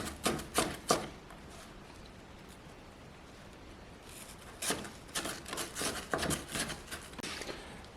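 A kitchen knife dicing ingredients for spaghetti bolognese on a cutting board, a few quick chops, then a quiet pause, then a longer run of irregular chopping strokes, close and fairly soft.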